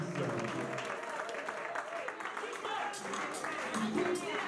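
A church congregation at a 50th anniversary celebration applauding, a dense spread of clapping from many hands filling the room, mixed with voices talking over it.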